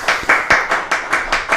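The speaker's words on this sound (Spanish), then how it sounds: "lo recibimos con un aplauso" Rhythmic group clapping welcoming a guest to a Spanish-language talk program, about eight even claps in under two seconds, close and fairly loud.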